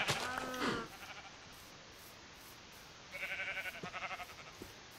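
Minecraft sheep bleating, one close wavering bleat at the start, then after a pause a second quieter warbling bleat with a few faint clicks.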